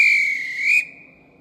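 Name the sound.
train guard closed doors whistle in Roblox SCR video game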